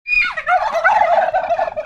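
Turkeys gobble in a village farmyard, one loud, close, continuous burst of rapid warbling calls lasting nearly two seconds, with no talking over it.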